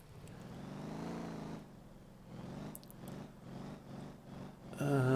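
Pickup truck engine in the driving game Motor Town, a steady moderate hum that dips and rises in pitch as the vehicle shifts and accelerates, ending in a louder burst, with no talking over it.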